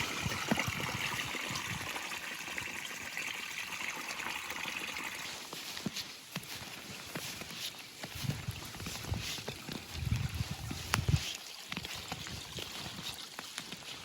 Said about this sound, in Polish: Strumek.